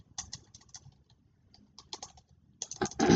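Typing on a computer keyboard, close and clear, with irregular clusters of crisp key clicks separated by short pauses, then a faster flurry of keystrokes at the end.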